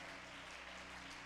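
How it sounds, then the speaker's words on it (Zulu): Applause from a church congregation at a Resurrection Sunday service, a dense steady clatter of many hands, faint and distant, with no voices over it. "Ake sishayeleni izandla iwundlu likaNkulunkulu."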